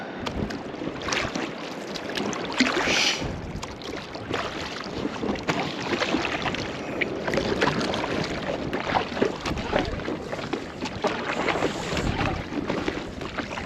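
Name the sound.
paddling an inflatable kayak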